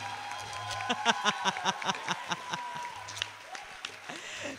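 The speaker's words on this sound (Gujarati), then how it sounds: "જલસો વાળા ચાર ગણી તાળીઓ પાડો" An audience at a Gujarati music concert claps in a rhythmic burst of applause, the claps close and distinct at first, then thinning and softening toward the end.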